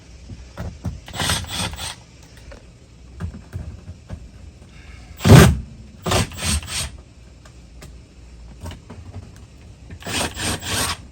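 Metal panel being worked off a Rheem air conditioning unit, with repeated bursts of rasping, scraping and rubbing, one louder knock midway, close and uneven.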